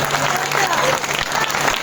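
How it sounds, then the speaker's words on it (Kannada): Loud applause from an audience at a village midnight Independence Day celebration, a dense, steady burst of clapping with crowd noise that fills the whole short stretch without pause. "ಜೋರಾಗಿ ಚಪ್ಪಾಳೆಯನ್ನ ತಟ್ತಾರೆ"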